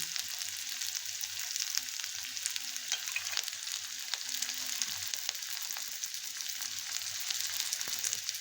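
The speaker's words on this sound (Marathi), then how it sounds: "कांदा चांगला लाल होईपर्यंत परतून घ्यायचा। त्यात लसूण पण टाकून घ्यायचा।" Onion and garlic sauté in a pan for a Marathi tondli bhaji, giving a steady, moderately quiet oily sizzle that runs unbroken with faint crackles and no voices.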